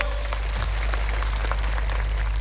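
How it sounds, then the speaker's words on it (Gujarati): Audience applause at a political rally fills the whole stretch as a dense, steady wash of clapping from a large crowd, with no voices heard. "આજે આ મંચ પરથી એમના માટે જોરદાર તાળીઓ પાડી લો।"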